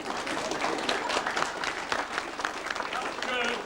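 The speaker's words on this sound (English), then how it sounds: "Give this lady a round of applause." A ghost walk tour crowd in York claps under ongoing talk, the applause loose and mid-distance while a voice keeps speaking over it.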